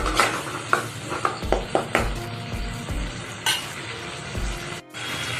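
Mustard paste fries in hot oil in a kadhai, a close sizzle broken by repeated scraping and stirring clinks of a spoon against the pan.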